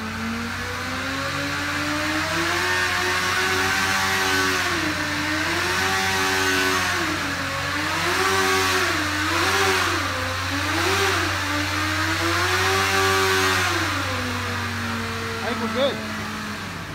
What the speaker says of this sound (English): let it see it rev up a little bit more